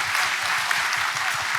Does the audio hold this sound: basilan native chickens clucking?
no